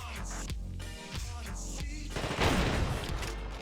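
Bursts of rapid gunfire in The Thing video game, shots fired toward the player in loud clattering volleys that swell into a dense barrage near the end.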